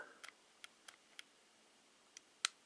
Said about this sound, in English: Not a real loud audible click, but if you're listening, you can hear it. Glock trigger.